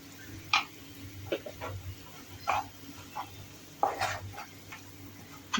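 Spices with turmeric and salt being stirred in a pan for spicy usal: a soft sizzle with scattered scrapes and taps of a spoon against the pan.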